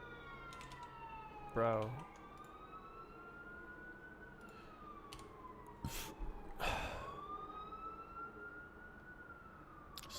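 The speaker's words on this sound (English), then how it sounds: "Sirens every day" Distant sirens wail and glide up and down throughout, with a brief spoken word and some clicking nearby over a steady background hum.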